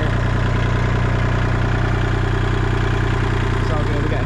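Kubota tractor engine running steadily while towing another stuck Kubota tractor, a loud, constant low diesel drone with a throbbing rumble and no breaks.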